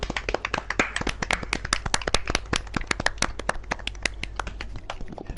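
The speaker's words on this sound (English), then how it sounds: "A round of applause for him, people" A small group, or one or two people, claps in quick, irregular sharp slaps during an online GT3 racing league broadcast, close and distinct for several seconds after a race win.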